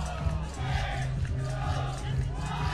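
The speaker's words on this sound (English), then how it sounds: "Hear the crowd counting." A beach soccer crowd at a Morocco versus Brazil match chants together in a rhythmic count, a large rumbling mass of voices with a steady low drone beneath and a commentator's voice intermittently above it.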